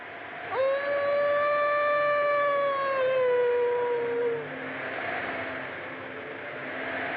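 A dog howls once down by the river in a long, sustained, mournful note that slowly falls and fades, followed by quieter background hiss.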